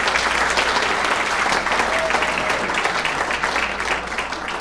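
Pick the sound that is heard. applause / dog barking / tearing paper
applause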